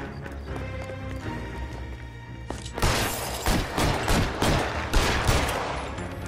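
Rapid gunfire in the video game L.A. Noire, a dense run of sharp shots starting a few seconds in and continuing to the end, fairly loud over quieter game ambience.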